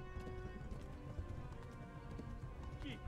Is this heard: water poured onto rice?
no